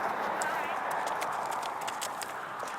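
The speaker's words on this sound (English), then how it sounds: "I'm being accompanied by a horse" Steady clip-clop of horse hooves on pavement in Tucson, Arizona, a brisk regular rhythm close by, with people talking over it.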